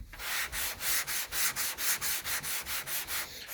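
A coating is rubbed or sanded close to its edge in rapid, regular back-and-forth strokes, about four per second. The scratchy strokes are close and fairly loud, with no talking.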